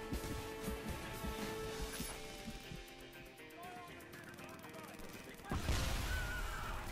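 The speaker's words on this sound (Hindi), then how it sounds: "लेकिन इस मशीन गन की आवाज बड़ी मस्त है," A rail gun fires during a Frontlines: Fuel of War gameplay session, in bursts that blend into dense, noisy combat sound, with a louder blast near the end.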